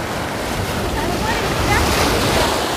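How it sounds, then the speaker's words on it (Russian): Sea waves roll onto the beach at Blagoveshchenskaya on the Black Sea coast, a loud continuous wash of surf mixed with heavy wind buffeting the microphone. "я вам предлагаю немножко понаблюдать за волной"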